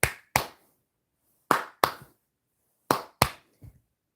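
Sharp, isolated hand claps in pairs, three double claps spaced about 1.5 seconds apart with a faint softer tap at the end, close and dry with silence between.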